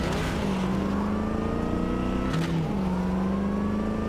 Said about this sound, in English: when you let off the throttle, it crackles and pops